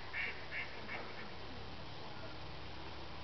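Faint duck quacks sound a few times at a distance on a pond over a steady outdoor background hiss.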